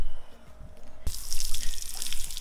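An outdoor rinse shower in Tulum, Mexico, splashes on suddenly after a quiet start, then runs as a loud, steady hiss of spraying water.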